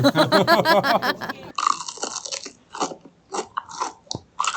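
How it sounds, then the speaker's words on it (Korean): Crisp fried food bitten and chewed at a Cheongsong eatery: after a short burst of voice, several loud, close crunches crackle in an uneven rhythm. "튀김에 바삭함이 있어."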